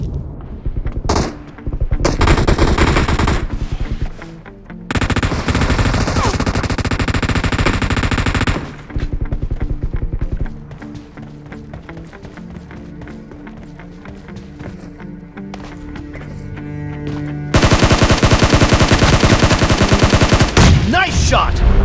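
Rapid automatic gunfire rattles in PUBG Mobile, several dense bursts of loud shots broken by short pauses, with lighter, more scattered shots in the middle stretch and a sustained loud barrage at the end.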